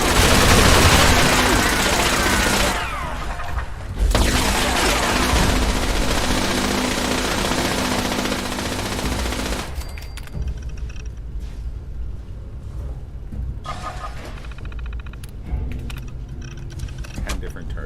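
Automated turret gunfire from a Fallout video game, a dense, loud, continuous burst of rapid shots that stops abruptly, giving way to quieter scattered clatter and lingering noise.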